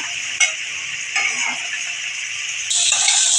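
Steady, bright sizzle of prawns frying in hot oil over medium heat, with a few scrapes of stirring and a louder burst of sizzling near the end.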